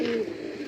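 A top-quality fancy pigeon, a fantail Lahori, gives one short, close throaty coo lasting well under a second, with no voices.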